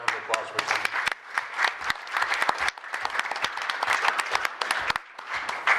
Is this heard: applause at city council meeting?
yes